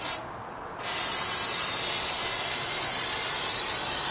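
Plasti Dip sprays from an aerosol can onto the grill of an Infiniti G35 sedan, a loud steady hiss that pauses briefly near the start and then runs on unbroken.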